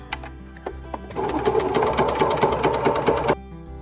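A sewing machine back stitching a tee shirt seam, starting with a few single needle clicks and then running in a fast, close, steady whirring burst for about two seconds before stopping.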